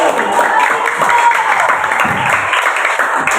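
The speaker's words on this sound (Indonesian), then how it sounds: "kasih aplaus buat Yogi" Classroom applause for a student: a steady, dense patter of many hands clapping together, filling the room evenly for several seconds without a break.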